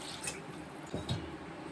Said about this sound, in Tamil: தண்ணி இன்னும் கொஞ்சம் ஊற்றிக்கிறேன்